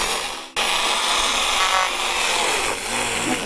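A ten-year-old Daiso electric hand mixer whirs loudly and harshly, like a power tool, cutting out for a moment before starting again and running steadily, with no one talking over it.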